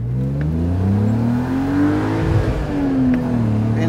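A BMW Z3 3.0i roadster's engine pulls hard at wide open throttle, its rising drone sweeping up, dropping at a gear change and climbing again, loud and close from inside the car.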